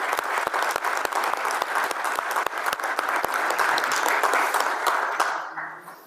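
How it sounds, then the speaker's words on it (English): Sustained applause from the audience at a city council meeting, a dense, steady patter of many hands clapping together that carries at an even level before fading out near the end. "If you want to give him a round of applause."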